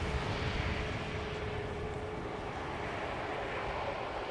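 A steady, faint broadband roar from an aircraft making a flyby at Schiphol Airport, holding an even level throughout with a thin hum running underneath.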